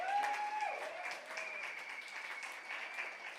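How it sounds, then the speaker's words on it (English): A crowd applauds at an October 2023 birthday rally for Reverend Al Sharpton, a steady, somewhat distant wash of clapping with cheers and voices mixed in from a large indoor audience. "give a thunderous applause as we celebrate the birthday of Reverend Dr. Al Sharpton"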